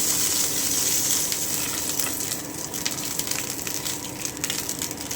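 A hot pan set on a gas stove sizzles as oil is brushed across it, a steady, close hiss with light scraping textures and no talk.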